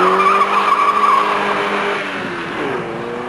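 A 1984 GTI hot hatch launching in a standing-start kilometre test, tyres squealing loudly over a rising engine note as the car accelerates hard, with no talk over it.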